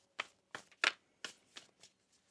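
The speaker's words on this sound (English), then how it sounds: "One more shuffle." Oracle cards from a Moonology deck being shuffled by hand, a series of soft, close riffling bursts in an uneven rhythm, faint and alone with no talking.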